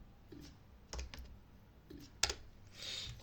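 Scattered keystrokes on a computer keyboard, typed in short bursts of a few clicks with pauses between, close and fairly quiet, with no voices.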